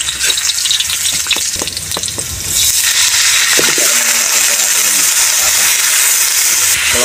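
Onions sauté in a hot pan for a pata tim dish, first with stirring scrapes and clatter, then breaking into a loud, continuous close-up sizzle and hiss that fills the rest.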